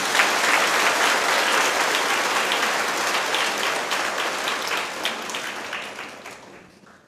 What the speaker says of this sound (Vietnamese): bằng một tràng pháo tay lớn thì anh chị em